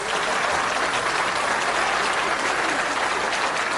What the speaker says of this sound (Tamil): இந்த மன்றத்தில் முன்வைத்ததற்காகவே சிவநந்தினிக்கு ஒரு அரங்கு நிறைந்த கைத்தட்டல் கொடுக்கலாம்